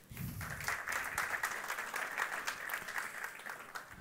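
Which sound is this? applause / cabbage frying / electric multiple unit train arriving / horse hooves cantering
applause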